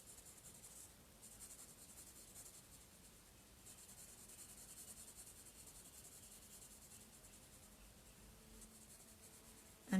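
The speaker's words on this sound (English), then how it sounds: "My pencil marks are crossing over." Pencil shading strokes scratch steadily across sketchbook paper, a faint, continuous dry rubbing with layered cross-hatching marks and no voices.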